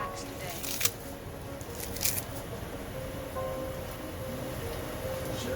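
Leafy greens for Zuppa Toscana soup are ripped apart by hand into bite-sized pieces, giving two crisp tearing bursts over a steady rustling background hiss.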